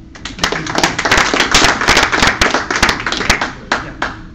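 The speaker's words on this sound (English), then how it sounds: "It's very kind of you to applaud before I've spoken" An audience at a Rotary Club meeting applauds, a dense burst of clapping hands that swells and holds steady before tapering off at the end, with no voices over it.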